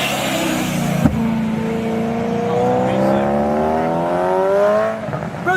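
Supercharged S65-powered BMW M3 revving nearby, a sharp blip then rising and sustained engine tone with a whining harmonic climb, loud and close.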